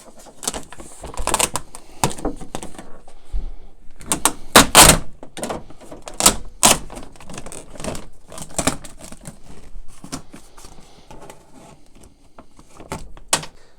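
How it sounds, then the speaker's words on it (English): Plastic cover being pried and pulled off the inside of a car door during a power window motor replacement, with a series of close clicks, snaps and rustling scrapes at an irregular pace and no speech. "Now we'll just take off the plastic cover inside."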